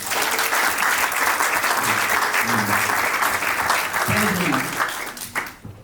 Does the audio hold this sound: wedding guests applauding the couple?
yes